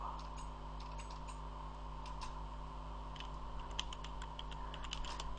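Steady computer keyboard typing in Minecraft chat, a close run of light clicks layered over a constant low electrical hum, with no voices.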